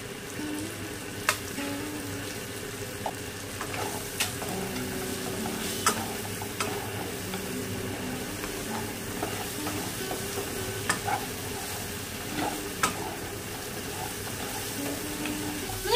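Crab sautéing in a pan with turmeric and spices, a continuous sizzle and frying hiss with regular scrapes and clicks of stirring, close and steady with no talk.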